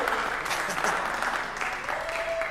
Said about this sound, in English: A round of applause for those guys.